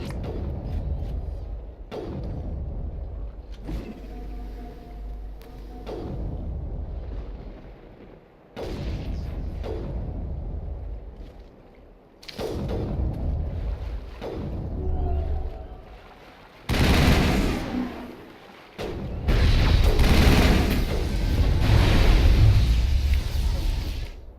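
Distant booming crossfire and explosions rumble through a Mass Effect battle against the Geth, coming in heavy waves that grow louder and denser toward the end.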